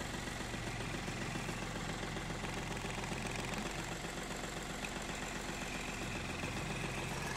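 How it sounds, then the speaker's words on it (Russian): A Yanmar F-220 Japanese mini tractor engine idles with a steady, low rhythmic diesel chug, close and continuous throughout, with no voices. "Трактор заводится буквально с полпинка."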